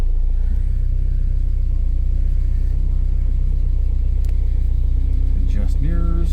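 An MGA sports car with aluminum hardtop rumbles loudly and steadily close by. Near the end it starts and revs, with a rising whine over the low idle.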